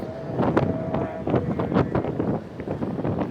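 Strong storm wind roars and buffets continuously at the Pamban bridge, with gusty bursts and a rumbling low end, no voices present.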